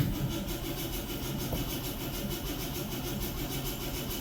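Ford Ranger truck engine cranking and failing to fire after fuel is pumped, a continuous loud churning drone with a steady rhythmic pulse, close by and without speech.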